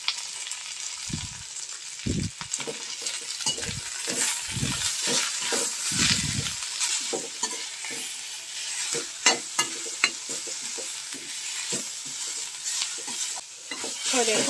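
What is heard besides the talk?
frying and stirring moringa leaves in a pan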